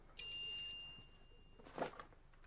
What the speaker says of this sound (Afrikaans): Sy SMS van Lukie.